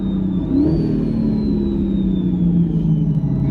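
Supercharged Procharger-equipped Corvette C8 sports car engine heard up close from behind the cabin, a steady loud mechanical drone with a rising whine and rumbling tones shifting pitch as it downshifts, continuous with no talk.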